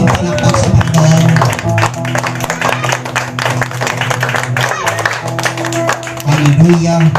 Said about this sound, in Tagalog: Wala po bang ilalakas ang palakpak sa Panginoon?